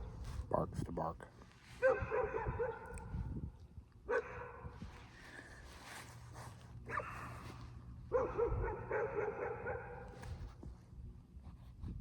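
A dog barks and whines in drawn-out bursts, loud and close, several times, with people talking throughout.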